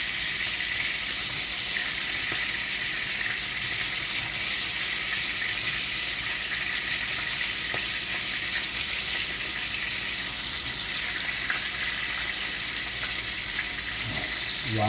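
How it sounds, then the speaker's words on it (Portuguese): Garlic fries in a pan with thyme and rosemary beside steak fillets, producing a constant, dense, close sizzle with small pops and spatters throughout and no voices. "O alho, ele vai fritar aqui junto com o tomilho, junto com o alecrim."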